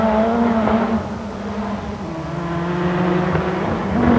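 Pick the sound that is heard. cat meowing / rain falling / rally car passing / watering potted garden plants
rally car passing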